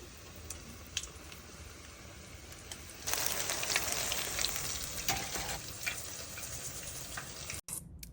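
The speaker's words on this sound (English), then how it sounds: "So you're going to put the onion rings in here and then just fry them up." Vidalia onion rings sizzle and crackle deep frying in hot oil, starting quieter and then jumping louder as more go in, with small pops and bubbling throughout.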